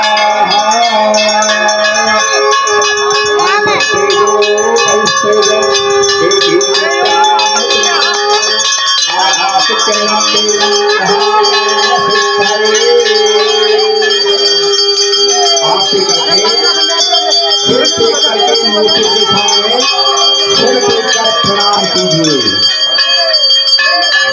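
Temple bells ring almost without pause during a Mahadev temple ceremony for a deity installation, bright metallic strikes overlapping into a loud, sustained clangour with ringing tones, while voices talk underneath.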